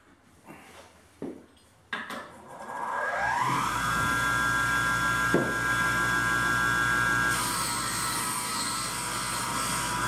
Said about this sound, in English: I got the blade all polished up pretty good with the wire wheel